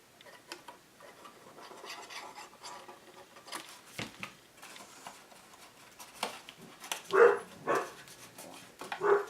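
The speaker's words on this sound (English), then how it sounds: "I'm going to go with my bone folder and just give it a little bit of a rub" Bone folder rubbed across folded paper on a hexagon box craft project: soft, scratchy rasping strokes in short irregular bursts, close and fairly quiet, growing louder toward the end.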